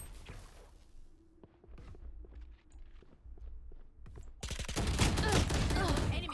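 Gunfire rattles in a tactical shooter game, scattered single shots and footsteps at first, then a dense, loud burst of rapid fire that fills the last couple of seconds.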